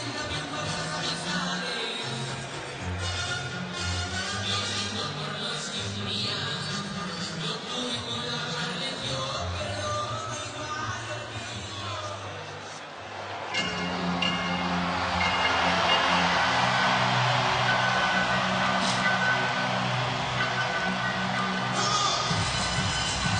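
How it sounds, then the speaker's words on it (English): An arena crowd loudly boos boxer Jose Benavidez Jr. during his bout with Terence Crawford. A dense roar runs throughout, dipping briefly and then swelling louder and fuller in the second half, with music-like tones mixed in. "A tidal wave of boos crashing down on him right now"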